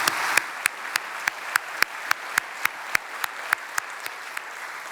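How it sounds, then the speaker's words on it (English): Scattered, thin clapping with sharp individual claps at a steady pace, like a small group applauding at a city State of the City address in Brownsville; fairly quiet and no voices. "Let's give them a round of applause"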